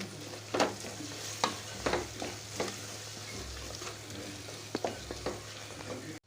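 Green chillies sautéing in a pan for mutton biryani: a steady, soft oil sizzle broken by a series of sharp scraping and clicking spatula strokes at irregular intervals, close by, with no talking.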